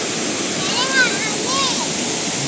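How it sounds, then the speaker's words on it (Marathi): Somtirth waterfall in the Konkan countryside rushes with a steady, close roar of falling water while people talk over it. "आपण आता धबधब्याजवळ आलेलो आहोत"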